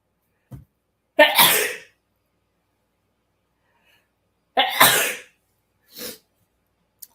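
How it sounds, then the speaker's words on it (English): Two loud sneezes several seconds apart, each with a sharp intake and explosive burst, followed by a short breathy exhale, with near silence between. "hold on, I got to sneeze"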